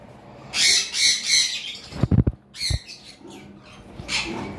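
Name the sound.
lovebirds squawking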